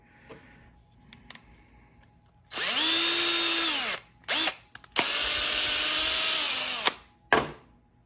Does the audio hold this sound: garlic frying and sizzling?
no